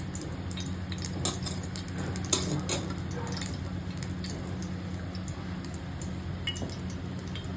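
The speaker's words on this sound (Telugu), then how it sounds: "ఉడికించుకొని బాగా ఇది ఆయిల్ పెట్టి వేడైనాక అందులో వేసి సన్నగా సగలో వేపాలి" Elephant foot yam slices fry in oil on a tawa, giving a steady close sizzle with scattered crackles and light stirring clicks throughout, no talking.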